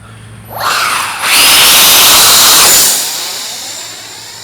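An Aerojet 64mm electric ducted-fan RC jet plane roars past nearby, its whine swelling sharply, holding loud and high-pitched for a couple of seconds, then fading as it flies away.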